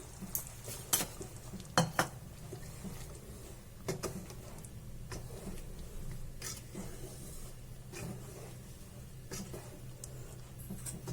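A spoon clinks and scrapes in a pot as cream is stirred into dal makhani with the gas flame off, a few sharp metallic taps and soft stirring, close but fairly quiet with no talking.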